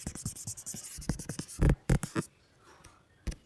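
Quick scrubbing strokes of an eraser wiping a board clean, a run of short dry swipes close by, then a few heavier rubs and a last brief scrape after a pause.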